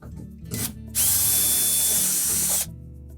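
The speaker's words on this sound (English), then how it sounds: "we're going to remove the screws that secure the outer panel to the inner panel" A power drill spins out the screws holding the outer door panel to the inner panel of a Whirlpool dishwasher, with a short burst followed by a loud, steady whir of about a second and a half, then stopping.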